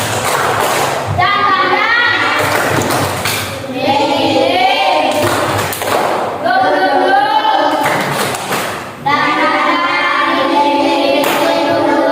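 Third-grade children in an Indonesian Islamic primary school classroom chant the 'tepuk semangat' clapping chant together in rhythm, punctuated by sharp bursts of group clapping at regular intervals, loud and close in the room.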